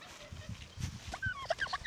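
A turkey gobbles and clucks up close in a short burst of warbling, rising calls, fairly quiet overall, with no talking over it.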